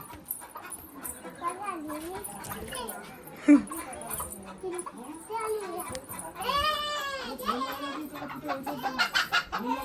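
A dog whimpers and yelps in high, wavering cries mixed with excited talking voices, with a few short sharp barks standing out.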